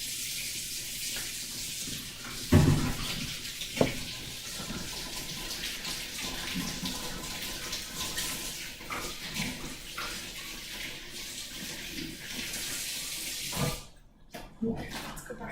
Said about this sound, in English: I like to wash my hands if it gets messy.